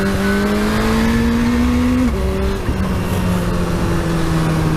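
A Suzuki GSR 750 motorcycle ridden through corners, a loud, steady engine note rising gradually, dipping briefly with a quick shift or throttle change, then holding and slowly falling, with wind roar throughout.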